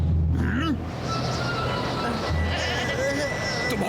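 Cartoon goats bleat in a Hindi-dubbed animated football series, two short wavering calls standing out over a busy music and effects bed.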